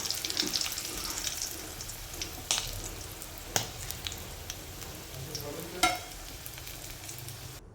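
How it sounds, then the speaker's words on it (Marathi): Chana koliwada deep-fries in hot oil, a steady hissing sizzle broken by a few sharp clinks and scrapes of a utensil in the pan. "अशा पद्धतीने तळून घ्यायचं आहे"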